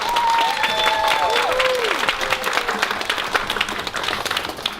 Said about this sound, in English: Can we have another round of applause for our little superstars?